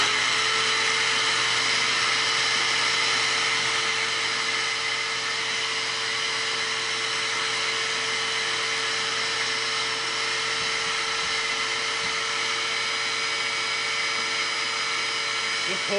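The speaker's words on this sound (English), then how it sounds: "Let's get the shop vac going." A shop vac running continuously, sucking loose debris out of the headlamp assembly of a 2016 BMW R1200RS motorcycle, a steady high whine and airy rush held close and loud with little change.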